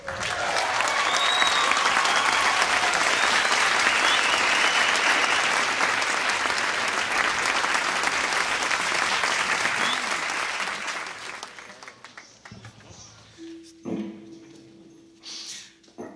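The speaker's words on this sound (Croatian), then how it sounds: "Molim vas, jedan veliki aplauz." A large stadium crowd at a rock concert bursts into loud, sustained applause that roars for about eleven seconds, then fades to scattered clapping, a lone cheer and a brief tone.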